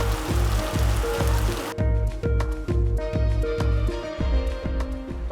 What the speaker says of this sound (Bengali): ঝমঝমিয়ে বৃষ্টি নামলো।